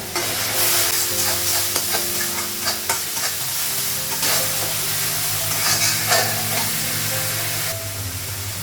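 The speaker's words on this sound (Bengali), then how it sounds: "গ্যাসটা বাড়িয়ে লঙ্কা গুঁড়ো, মশলাগুলো ভেজে নিই" Chili powder and spices fry in a pan over a gas flame, giving a dense, close sizzle with scraping stirs and small pops throughout, and no talking.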